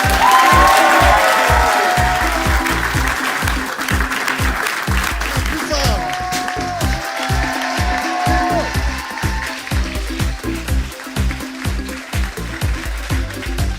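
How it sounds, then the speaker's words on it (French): Audience applause greeting guest Jean-Michel Jarre at a bookshop event, a loud sustained clapping wash with cheers running the full length and steady beat-like thumps beneath. "Et je vous demande d'applaudir très très fort notre invité"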